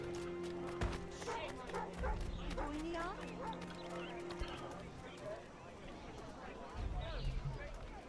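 Puppies in Assassin's Creed Rogue yip and whimper over a busy game soundscape with footsteps and background noise, a voice talking across much of it.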